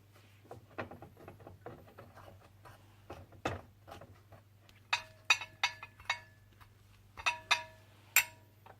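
Donut glaze with lemon juice, food colour and butter being stirred in a bowl, heard as soft scraping and tapping strokes at close range, ending in a run of sharper clinks of the utensil against the bowl, with a steady low hum underneath.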